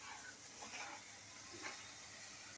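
Fish kalia masala frying in oil, a continuous close hissing sizzle that holds steady for a couple of seconds before cutting off, with no speech.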